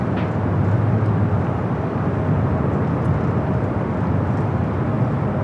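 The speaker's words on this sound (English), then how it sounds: "a 737 MAX 8 coming in from Reno" A Boeing 737 MAX 8 airliner on approach into Los Angeles International Airport, a loud, steady jet engine roar with a broad low rumble and no talking.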